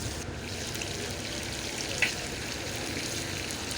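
Chicken tikka pieces fry on low heat in a pan with a steady, even, close sizzle throughout, broken by one brief sharp crackle, with no talking.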